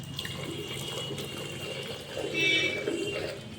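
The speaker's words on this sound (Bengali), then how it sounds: "আমি ঠান্ডা জল দিয়ে ভালো করে মুখটা জল দিয়ে ধুয়ে নিই" Cold tap water runs and splashes steadily as a face is washed at a sink, with a short burst of louder splashing midway.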